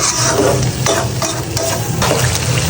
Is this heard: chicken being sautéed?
yes